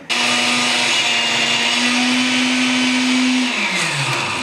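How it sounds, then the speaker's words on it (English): An electric blender runs at full speed on a thick sherry-and-milk sauce for chiles en nogada, a loud steady whir that starts abruptly and slows as it winds down at the end. "And then we put the blender on."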